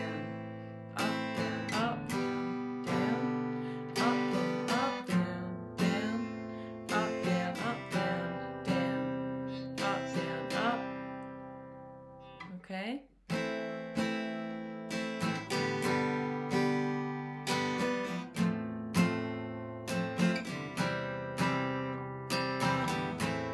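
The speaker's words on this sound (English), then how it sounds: "This is with the down, down, up, down, up strum." Acoustic guitar strummed in a down, down, up, down, up pattern for a pop song, played slowly with steady repeating chord strokes, close and clear, with a brief pause midway before the strumming resumes.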